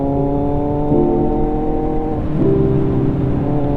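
A motorcycle engine runs loud and close, its pitch stepping up twice as the rider shifts gears and accelerates.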